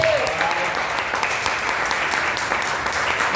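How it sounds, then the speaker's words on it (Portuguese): A church congregation applauds steadily and loudly in a continuous wash of clapping, with a faint voice briefly audible at the start. "Você pode aplaudir Jesus?"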